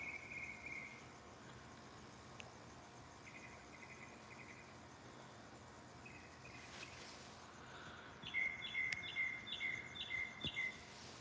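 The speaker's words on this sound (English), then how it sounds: "these birds have just been exceptionally loud" Birds call at night in Arizona with short repeated chirping phrases over a quiet hiss, sparse and faint at first, then a denser, louder run of calls toward the end.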